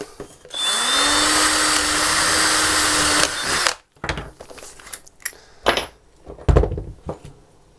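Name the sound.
drilling a small hole in plywood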